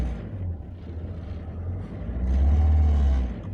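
An Opel Vivaro van engine rumbles low, then revs up louder around the middle, holding a strong, steady roar before easing slightly at the end.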